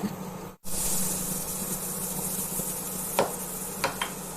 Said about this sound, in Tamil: எண்ணெய் நல்லா காஞ்சிடுச்சு. வாங்க நம்ம முறுக்கு புழியலாம்.